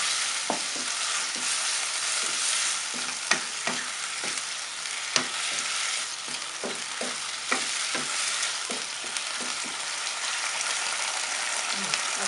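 Pork and bell peppers stir-fried in a pan with garlic and pepper, a constant dense sizzle broken by repeated scraping stirs and light taps of the utensil against the pan, close and steady throughout.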